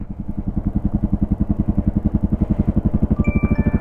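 A Honda MSX motorcycle engine pulses steadily and loud up close, a dense rhythmic exhaust thrum rising slightly as it revs through a clutch gear change, with a faint whine near the end.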